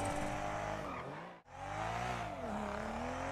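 A car driven fast and recklessly across grassy slopes in a video game, engine droning loudly and steadily with a brief dip then rising pitch as it revs again.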